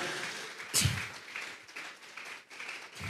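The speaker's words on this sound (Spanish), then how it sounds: "Vamos a regalarle ofrenda de palmas al Dios de la gloria" A church congregation at a Sunday service gives a short offering of applause, a soft wash of clapping with a brief louder thump near the start, distant and muffled, trailing off after a few seconds.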